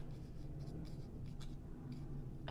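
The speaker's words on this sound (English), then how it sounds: "If I could get my scissors in there correctly." Scissors cut through craft material at a workshop, making soft, irregular snipping and scraping strokes close by over a low background hum.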